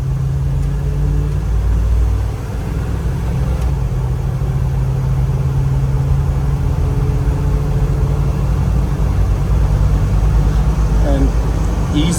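A 1979 Ford Bronco's engine rumbles steadily and loud throughout the drive, a deep continuous drone with slight shifts in pitch as it moves along.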